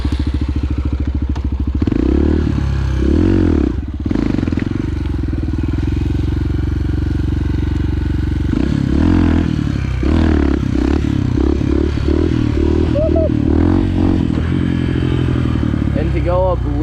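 Enduro dirt bike engine droning and revving while climbing a loose rocky hill, steady loud motor with clattering and scraping of rocks, under someone talking over it.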